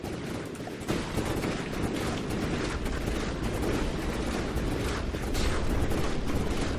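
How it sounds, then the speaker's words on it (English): An 18mm spam cannon firing in the video game From the Depths, a dense continuous barrage of rapid booming shots, loud and unbroken, with no talking. "This is a 18mm spam cannon."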